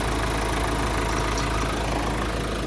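A 2.0L engine in a 2024 Ford Ranger Wildtrak idles steadily and smoothly, a constant close hum with no ticks or changes in pitch.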